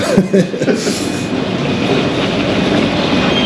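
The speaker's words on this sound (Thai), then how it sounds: "รถไฟสีแดงของเรา" Loud, steady rumble of a train running on rails nearby, with a faint clatter at the start and a continuous roar throughout.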